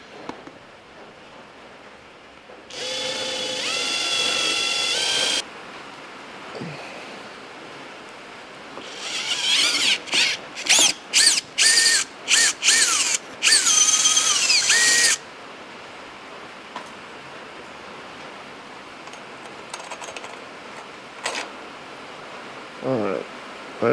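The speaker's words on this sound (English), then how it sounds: "we're going to take our drill bit and we're going to drill this hole right here" A drill bores a hole through the thin wall of a Dauntless V6 engine timing cover: a steady whine for a few seconds, then a run of short stuttering bursts, with quieter workshop ambience between.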